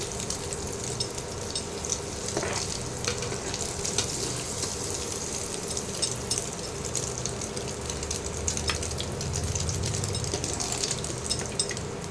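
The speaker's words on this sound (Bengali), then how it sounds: "এরকম হালকা হালকা করে পনিরটা ভাজতে হবে" Paneer cubes frying lightly in a pan give a steady, close sizzle with soft scraping and stirring, running evenly throughout with no talk.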